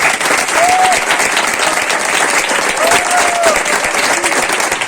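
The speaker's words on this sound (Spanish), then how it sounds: "así que un aplauso." Sustained applause from an audience at a human library event in Utrillas, a dense, steady wash of many hands clapping for the full stretch, with faint whistle-like tones rising briefly above it.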